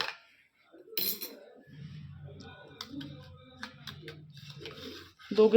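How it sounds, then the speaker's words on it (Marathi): Brass oil lamps are dropped into a pot of cleaning mixture with squeezed lemon, giving a few bright metallic clinks and clatters. A voice talks over and between them. "दिवे यात मी टाकून घेतले आहे"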